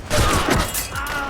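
Gunfire rattles in the video game Assassin's Creed Rogue, a loud, close volley of overlapping shots and mechanical clatter packed into just over a second.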